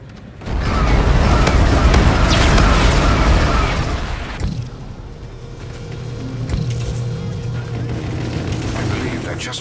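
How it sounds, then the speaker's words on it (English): Heavy bombardment explosions in the game Call of Duty: Infinite Warfare: a loud, dense, rumbling barrage roars for several seconds, then subsides into a lower drone with scattered, softer blasts. "Bombardment ready to fire."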